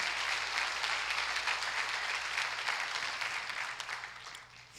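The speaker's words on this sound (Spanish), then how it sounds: "Démosle un aplauso al Señor por la bendición de tener una familia espiritual" A church congregation applauds during a service, a broad, continuous roar of many hands at fairly even strength that eases off slightly near the end, over a low steady hum and with no speech.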